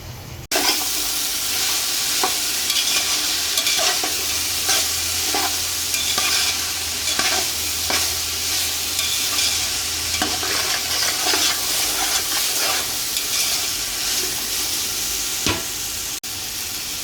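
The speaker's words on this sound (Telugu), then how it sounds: "ఈ కూరగాయ ముక్కలు మొత్తం బాగా ఉడికేలాగా ఉడికించుకోవాలి." Vegetable pieces stir-frying in a pan for veg biryani, a loud continuous sizzle with repeated scraping strokes of a spoon or spatula stirring through, no talking over it.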